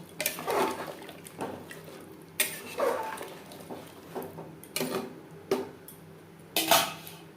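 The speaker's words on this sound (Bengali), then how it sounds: "এখানে আমি মশলা ধোয়া জল অ্যাড করলাম" Water used to rinse the spice bowl goes into a pot of mutton curry with potatoes. Splashes come in short bursts with metallic clatters of the pot and utensils, repeating at intervals.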